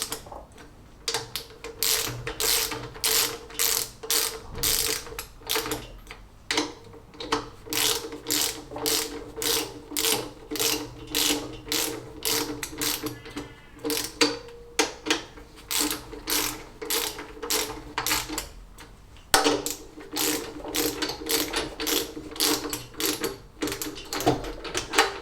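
A ratchet tightening down bolts on a classic Fiat 500 engine during a rebuild: rapid, crisp clicking in repeated bursts with short pauses between strokes, close and clear with no talking.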